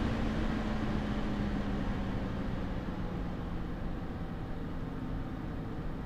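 Cooling fans of a budget audio production computer whir as a steady broadband hiss with a faint low hum, continuous and fairly quiet with no other sounds.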